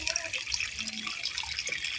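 Irrigation water runs steadily into a field of eggplant and beans, a continuous close-up splashing gush with a faint voice murmuring briefly underneath.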